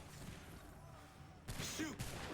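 A sudden musket volley in Assassin's Creed III bursts out after a stretch of low battlefield rumble, a loud crackling blast followed by a second sharp burst close behind.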